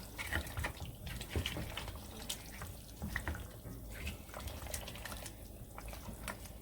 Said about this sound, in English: I'm gonna add some boiling water into this